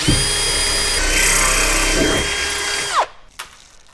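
A power tool, likely a rivet gun, whirs steadily and close for about three seconds while fitting rivets into a rear seat-belt reinforcement plate on a VW Kombi, then winds down and stops with a brief clack.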